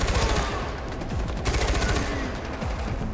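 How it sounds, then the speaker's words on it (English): Rapid automatic gunfire in the video game Far Cry 4, a steady rattling burst of fast repeated shots running throughout, loud and close with no talking over it. "I'm shooting this guy. Trying to gun him down."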